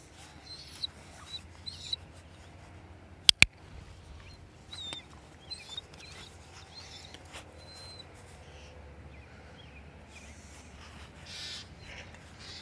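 Birds calling outdoors, with crow-like caws scattered across a quiet background, plus a couple of sharp clicks and faint distant ambience.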